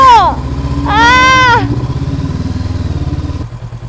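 Motorcycle engine idling, then revving and pulling away with a half-clutch start; a steady close engine throb with a rising rev, plus short whistled tones near the start.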